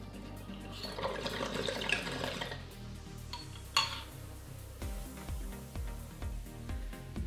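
Water in a Black Leaf dome perc bong with ash catcher bubbling as a hit is pulled, a steady close gurgle followed by lower rhythmic bubbling bursts and a few glassy clinks.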